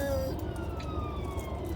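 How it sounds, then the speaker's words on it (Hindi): An ambulance siren approaching from ahead of a car, heard faintly through road rumble as a short steady wailing tone, without speech. "ये अभी सामने से एम्बुलेंस आ रही है गाइस।"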